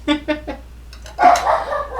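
Toby, a pet dog at home, barks three times in quick, sharp succession nearby. After a short pause comes a louder, longer burst of barking and yelping.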